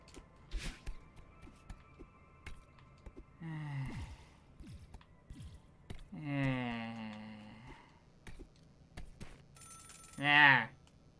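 A payphone rings in the video game Celeste, heard briefly and fairly faintly between the character's wordless vocal sounds, gasps and sighs, with light game effects.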